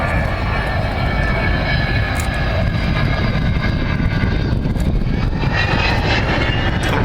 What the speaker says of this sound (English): Final fly past coming in from the right, speeding up to 300 knots